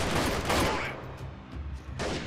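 Shots from a weapon in the guerrilla combat game Freeman: Guerrilla Warfare, a couple of loud broadband bursts opening and closing a short stretch of rumbling, close and sharp, with no talk over them.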